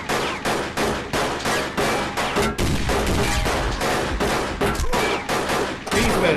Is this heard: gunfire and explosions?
yes